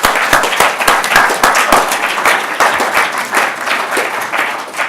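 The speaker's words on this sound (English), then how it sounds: "I'd like everyone to give them a hearty round of applause." A crowd at a launch event breaks into applause, dense rapid clapping that holds steady for several seconds at close range.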